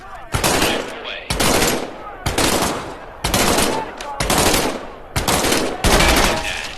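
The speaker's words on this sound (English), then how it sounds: "Reach over your shoulder and grab your M1A1 submachine gun." An M1A1 submachine gun fires in the VR game Medal of Honor: Above and Beyond. Six loud, close bursts of rapid automatic fire come back to back, each about a second long, with brief gaps between.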